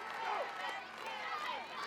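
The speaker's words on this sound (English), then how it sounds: "And the crowd's really getting into it," Arena crowd at an American Ninja Warrior Dallas finals course chanting a competitor's name in a rhythmic, swelling group voice, steady and moderately loud throughout.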